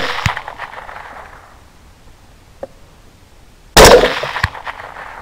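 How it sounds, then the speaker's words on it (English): Rifle shots in 6mm Grendel with Speer Gold Dot rounds are fired at boars: a sharp crack, a much fainter pop a couple of seconds later, then a loud, close report trailing into echo. "Three shots, three hits, and both boars are down."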